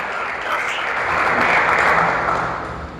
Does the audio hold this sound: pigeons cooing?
no